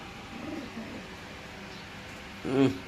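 A pigeon coos softly early on, then a louder, closer burst of cooing near the end, with low background noise throughout.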